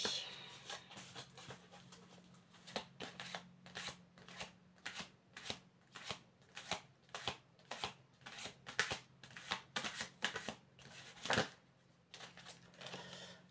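Tarot cards being shuffled by hand: a steady run of crisp, rhythmic riffling flutters, close and clear over a faint low hum, with no talking.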